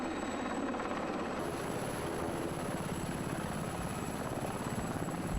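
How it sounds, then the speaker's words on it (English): An NH-90 twin-engine military helicopter's rotor chops in a steady, rapid thud beneath a loud turbine whine, continuous and close throughout. "The NH-90 is a European medium-sized, twin-engine, multi-role military helicopter."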